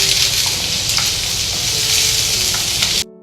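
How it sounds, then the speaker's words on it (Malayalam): Sliced onions sizzle and fry steadily in hot oil for a Kerala-style chicken perattu, a dense continuous hiss close up that cuts off abruptly at the end. "അതിലോട്ട് നമുക്ക് ഒരു ഉള്ളി അരിഞ്ഞ് നമുക്ക് ഇതിലോട്ടൊന്ന് നന്നായിട്ട് വഴറ്റിയെടുക്കാം"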